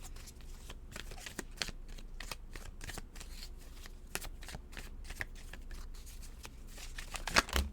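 Tarot cards being shuffled, a steady run of soft, close riffling flicks and slaps continuing for several seconds, fairly quiet with no talk.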